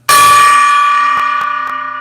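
A gong is struck once with a sharp, loud clang that blooms into a long shimmering ring, slowly fading with a faint wavering pulse, alone and close.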